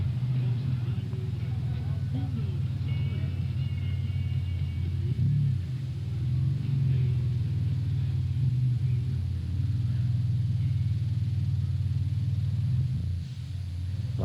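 A 1990s Pontiac Firebird V8 with huge exhaust pipes rolls past at an American car show in Faro, Portugal, its deep engine rumble steady and close throughout, with people talking nearby.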